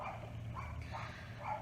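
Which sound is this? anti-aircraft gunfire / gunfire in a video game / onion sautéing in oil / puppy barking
puppy barking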